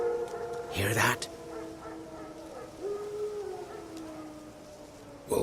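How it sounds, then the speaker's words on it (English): Several wild dogs howl in The Witcher 3: Wild Hunt, long, wavering, rising and falling tones at a distance, overlapping one another, with a brief rustle and a sharper noise near the start. "Wolves? No. Wild dogs."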